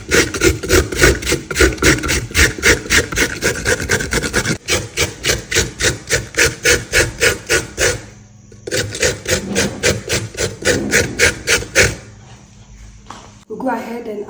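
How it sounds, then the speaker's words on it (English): Coconut scraped on a hand grater in fast, even rasping strokes, loud and close, with a brief pause partway through and again near the end. "So with the help of your grater, you can grate it."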